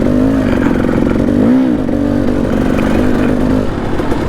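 A Kawasaki KLX140RF dirt bike ridden on a single-track trail in Payson Canyon, Utah, its engine droning steadily and loudly close by, with small pitch swings as the throttle shifts.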